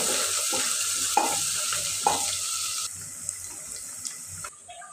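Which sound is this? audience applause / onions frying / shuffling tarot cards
onions frying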